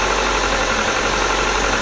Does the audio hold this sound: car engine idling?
yes